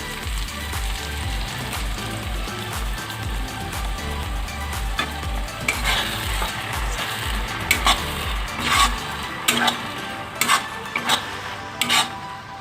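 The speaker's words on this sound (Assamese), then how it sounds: "এতিয়া মই পেষ্টখিনি 3 মিনিটমান সময় ভাজি ল'লোঁ" Mustard paste fries in a pan for mustard fish curry, a close steady sizzle broken by repeated scraping and clicking spatula strokes as it is stirred, with no voices.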